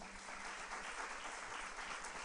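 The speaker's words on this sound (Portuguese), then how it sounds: "Você pode aplaudir ao Senhor?" Congregation applauding during a church celebration service, steady dense clapping throughout, distant and fairly quiet.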